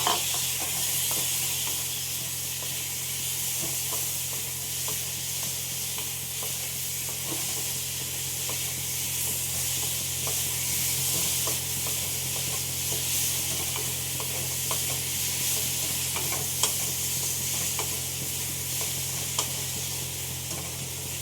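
Potatoes frying in a kadai with very little oil, spiced with Kashmiri chilli powder, give a steady, close sizzle, with faint stirring scrapes running through it and no talk.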